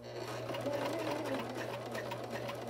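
A sewing machine runs steadily, stitching the side seam of an 18-inch doll dress, a close continuous mechanical whir with a rapid rhythmic needle clatter.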